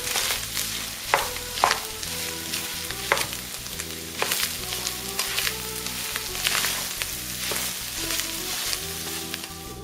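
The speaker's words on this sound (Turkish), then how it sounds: "rendelediğimiz patatesi ilave ediyoruz. Şöyle geçene kadar kısa süre pişiriyoruz." Grated potato sizzles steadily in a hot pan for a Turkish dızmana dish, with bright frying crackle throughout and occasional sharper spatula clatters against the pan, close and fairly loud, with no talking.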